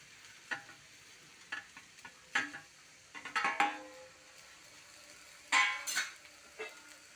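Finely chopped ingredients go into a hot pan and are stirred, giving scattered soft sizzles and scraping clinks of a utensil against the pan, quiet and close with no talk.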